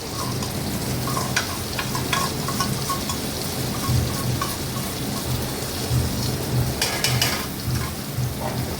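Masala paste hits sizzling fried onion and tomato in a pan for a potol and fish curry, giving a loud, steady, rain-like crackle with scattered sharp pops and clinks, close up and without voices.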